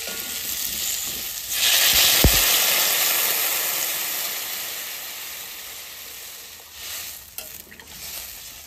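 Water poured into a pan of fried elephant foot yam sets off a loud burst of sizzling and hissing steam, which then settles into a steady, slowly fading sizzle with a few stirring scrapes near the end.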